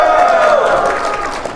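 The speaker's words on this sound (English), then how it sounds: "Can we get a applause or a shout for Starmie?" A live show audience at PAX East 2017 cheers and applauds, a loud, dense crowd roar filling the short moment.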